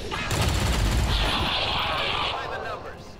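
A grenade launches and explodes in the turn-based strategy game Long War 2, making a loud booming blast with a long rumbling roar that slowly fades, close and full.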